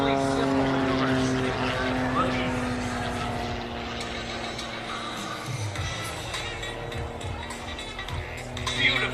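Aerobatic stunt plane performing maneuvers at the 2018 Jones Beach air show, its engine drone steady and moderately loud throughout, with a voice talking over it and a swell near the end as the aircraft passes closer.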